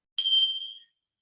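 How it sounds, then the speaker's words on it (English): A single bright bell tone rung to open a restorative yoga and Yoga Nidra session, struck once, clear and close, ringing out and fading within about a second in silence. "the signal of the bell tells us everything's going to be okay"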